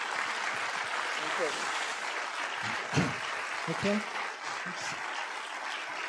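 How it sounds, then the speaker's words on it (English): Audience applause after a public lecture on humanity versus barbarity, a steady broadband clapping wash running throughout with a man's brief spoken remark over it near the middle. "They'll keep on clapping forever if we don't leave."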